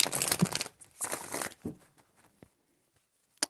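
Playing cards shuffled by hand in a few quick riffling bursts, close and crisp, ending in a soft tap with brief quiet gaps between.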